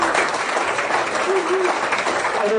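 An audience claps at a live evening talk event, dense and steady for a couple of seconds, while a voice continues speaking over the applause.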